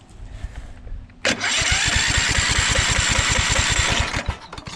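A Kohler Courage 20 hp engine on a Craftsman DYT4000 lawn tractor whirs briefly, then catches and runs with a rapid, steady, loud chugging putter up close for about three seconds before dying down.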